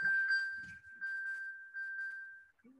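A mobile phone rings out a sustained notification tone during a symposium talk, holding steady for over two seconds with brief chiming flickers over it, fairly loud and close, ending as faint room noise returns.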